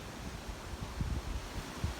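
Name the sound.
wind blowing outdoors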